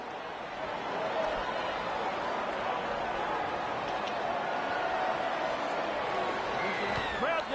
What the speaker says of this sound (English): Crowd goes up with a kickoff.